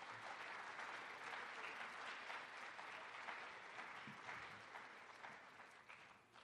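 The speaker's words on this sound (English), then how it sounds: "Let's do one more round of applause for these amazing students." Sustained applause from an audience for students at a convocation ceremony, steady and even throughout and fairly distant and soft, tapering slightly at the end.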